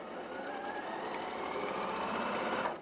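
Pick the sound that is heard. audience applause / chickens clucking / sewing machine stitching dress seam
sewing machine stitching dress seam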